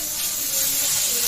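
Ginger garlic paste hitting hot oil with fried onions in a pan, a loud continuous sizzling hiss, steady and close.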